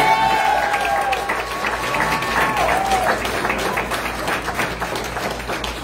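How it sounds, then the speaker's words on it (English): A church congregation applauds during a ministers' licensing service, with sustained clapping from many hands that fades slowly. A few cheers and whoops, plus some voices, sit in the crowd noise. "Y'all can applaud."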